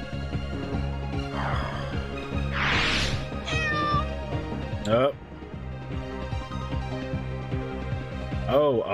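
A cat meows in the video game Skies of Arcadia, a couple of rising and falling cries with a short chirp, over busy game music and sound effects.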